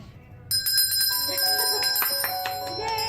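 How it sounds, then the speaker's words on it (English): A bell rung over and over at a bridal shop celebration, clear and sustained with bright ringing tones layered on each other, continuing without a break for several seconds. "you're going to ring the bell for as long and as loud as you want"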